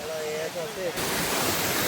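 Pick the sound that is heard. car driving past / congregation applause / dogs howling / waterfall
waterfall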